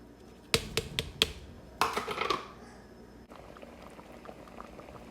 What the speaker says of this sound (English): So I'm gonna put everything inside and cover it to boil.